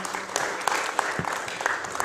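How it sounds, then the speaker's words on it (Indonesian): Listeners at a campus podcast talk applaud briefly, a fairly soft patter of scattered hand claps with some individual sharp claps standing out, continuing evenly over a couple of seconds. "Boleh kasih tepuk tangan teman-teman."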